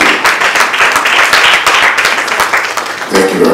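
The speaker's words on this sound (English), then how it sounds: "Put your hands together for him to clap." An awards ceremony audience applauds, a dense, loud wash of many hands clapping continuously at close range, swelling again near the end.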